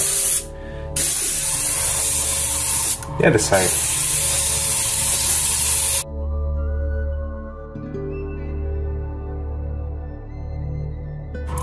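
Cap plastic is sprayed from an aerosol can onto the back of a silicone prosthetic in a few hissing bursts with short pauses, followed by quieter room sound as a voice speaks briefly.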